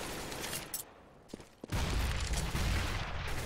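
Gunfire in a Counter-Strike: Global Offensive match as players spam shots through a wall, a dense, loud burst of rapid shots over steady background noise, with a brief lull before the firing intensifies again.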